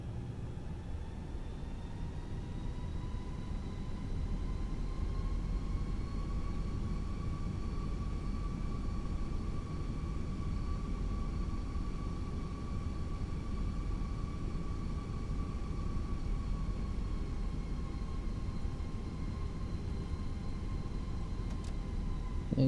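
Fenix A320 airliner in Microsoft Flight Simulator 2020 taxiing with thrust added, a steady jet engine roar with a slowly rising whine, continuous and fairly loud with no talking.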